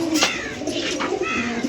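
Pigeons at a loft give soft throaty coos close by, several overlapping calls in a short burst with little else around.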